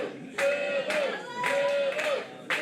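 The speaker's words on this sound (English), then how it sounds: "The crowd rallying." A small independent pro wrestling crowd rallies behind a wrestler with rhythmic chants, pulsing in repeated bursts at a moderate distance, the chanting swelling and dipping in a steady pattern.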